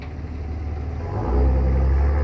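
A pickup truck with a sign on it drives past outdoors, its low engine rumble building and growing louder partway through as it nears, steady and close with no talk over it.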